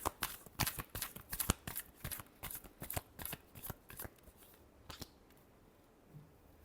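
Tarot cards being shuffled, a rapid run of crisp riffling snaps that slows and thins out toward the end, close and fairly quiet.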